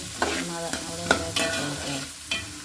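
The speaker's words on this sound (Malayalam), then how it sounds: "ഇങ്ങനെ ഇളക്കാം" Food is stirred in a frying pan with a spatula during a home cooking lesson, giving steady scraping and clacking strokes with a soft sizzle beneath. The sound is close and repeated, and nobody speaks.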